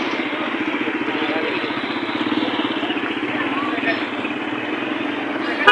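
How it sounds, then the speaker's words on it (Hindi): Motorcycle engines putter along a broken, damaged road at Brahma Interchange in Attock, a continuous mid-level drone with a rapid pulsing beat, close by and steady. "ये देखें, ये मोटरसाइकिल वाले भी साइड से आ रहे हैं।"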